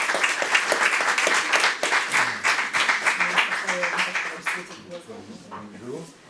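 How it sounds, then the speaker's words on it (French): An audience at a university event applauds in a sustained, dense round of clapping that slowly thins out, with a voice speaking over the closing moments. "Je vous propose qu'on applaudisse Darejan."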